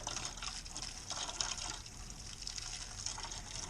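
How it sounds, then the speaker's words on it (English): Warm water is poured through a fence into a chickens' dish on a snowy morning, a faint, steady splashing trickle that stays soft and continuous. "So I could just pour through the fence."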